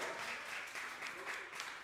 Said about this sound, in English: Give them another huge round of applause